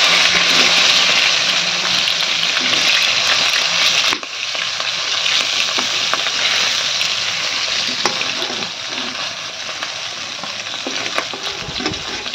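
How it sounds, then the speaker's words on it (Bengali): Fish pieces fry in a pan of oil with a strong, continuous sizzle and occasional stirring clicks, the hiss dropping slightly partway through; nobody speaks. "এই তেলের মধ্যে বাকি মাছগুলো ভেজে নেব।"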